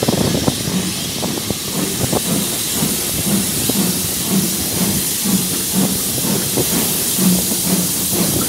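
Steam hissing loudly and continuously from a steam locomotive at Oakworth station in the rain, a broad steady rush with faint rhythmic chuffing and clanking beneath, no speech.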